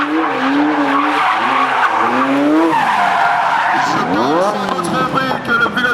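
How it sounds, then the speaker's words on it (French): Ferrari F40 doing burnouts at a tire-burning car meet, with long wavering tire squeals and skids over a revving engine, loud and close, and crowd voices faintly underneath. "C'est trop bien de voir une F40 brassée comme ça"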